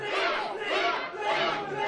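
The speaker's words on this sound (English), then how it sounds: "Listen to that crowd" A wrestling crowd roars and chants in waves during a match, with loud, sustained cheering that swells and dips throughout.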